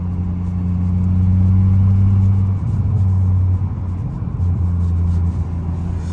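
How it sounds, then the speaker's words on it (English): A Volvo S40 T5 with a five-cylinder engine cruising at night, heard from inside the cabin as a steady, loud, low engine drone with rumble that dips and recovers briefly mid-drive. "But I love the sound of the 5-cylinder though."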